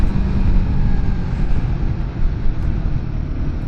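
A Royal Enfield Guerrilla 450 two-cylinder motorcycle engine runs continuously as a deep, steady rumble with wind noise, heard from the rider's position rather than close to the exhaust, with no talking.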